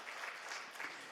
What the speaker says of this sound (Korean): 박수 한번 쳐봐라.